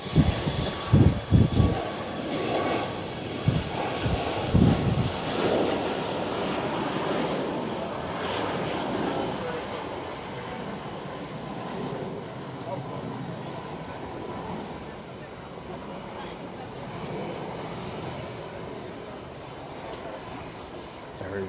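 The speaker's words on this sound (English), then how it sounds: "Take off then from them super efficient Max engines." A Sun Express Boeing 737 Max jet takes off at Bristol Airport, giving a sustained, loud broadband engine roar that swells early on and then slowly recedes into distant rumble.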